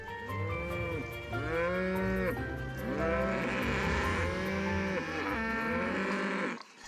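A herd of cows in a nature park moos repeatedly, with long overlapping calls from several animals at close to moderate distance. The lowing is loud and continuous and no one speaks over it.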